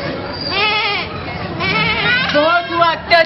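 A goat bleats repeatedly in wavering, quavering cries, loud and close, with short gaps between calls and no background talk.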